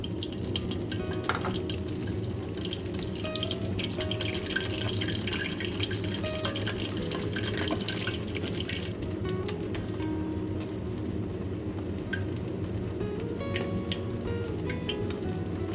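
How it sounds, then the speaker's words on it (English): Pork pieces being fried a second time in hot oil in a wok, giving a steady, dense bubbling sizzle that runs continuously and fairly close, with faint clinks on top and no voices. "Then pour the fried pork back into the oil wok and fry again."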